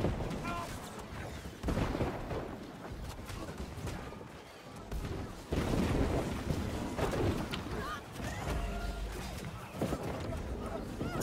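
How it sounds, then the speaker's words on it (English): Siege cannons fire during a large New World war battle, heavy booming blasts and rumbling bursts recurring through a dense, noisy game mix while players talk. "Those cannons are gonna hurt."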